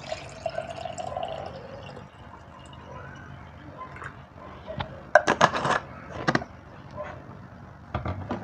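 Water splashes and trickles into a glass in short bursts, with light clinks and drips in between, close up and fairly clear.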